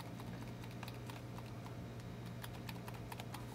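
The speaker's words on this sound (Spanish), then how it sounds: "Aquí le he conectado este teclado externo, le doy F2." Keystrokes on an external computer keyboard plugged into a laptop, repeated sharp clicks over a steady low hum, close and fairly clear with no talk.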